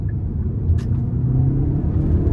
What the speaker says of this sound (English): we're gonna give it hard throttle here